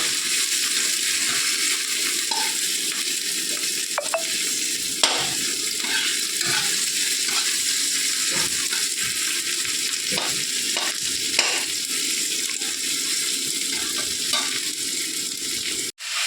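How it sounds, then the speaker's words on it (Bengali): Steady crackling sizzle of onion and garlic frying in a pan, continuous throughout, with occasional clinks and scrapes of stirring. "এই দেখো পেঁয়াজ রসুনটা একটু হালকা ভেজে নিই"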